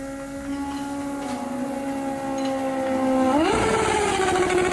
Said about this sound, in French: Soudain, on entendit une grosse cylindrée dehors.